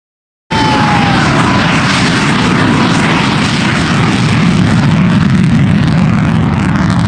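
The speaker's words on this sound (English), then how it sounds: "It was the first production jet aircraft to have an afterburner." A jet aircraft with full afterburner roars past at a night airshow at Oshkosh, a loud, continuous broadband rumble that starts abruptly and holds steady throughout.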